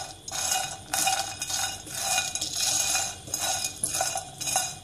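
Whole tehari spices, including shahi jeera, dry-roast in a pan under repeated stirring, giving rhythmic scraping and rattling strokes at close range with no voices.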